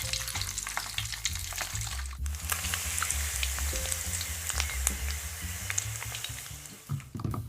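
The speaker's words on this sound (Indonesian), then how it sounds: "Goreng telur puyuh sebentar saja sampai permukaannya sedikit kecoklatan" Quail eggs fry in a hot pan with a steady, close sizzle and crackle, broken by occasional scraping and stirring clatter, with no voices.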